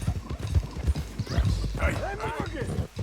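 A horse's hooves clop in a rapid rhythm in the video game Red Dead Redemption 2 while someone talks over the hoofbeats, which run throughout the clip and are partly buried under his voice.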